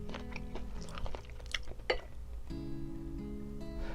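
Chewing on a whole leg of parboiled king octopus at a Noryangjin fish market, with close, steady wet mastication and soft bites and crunches in a repeating rhythm, no talk.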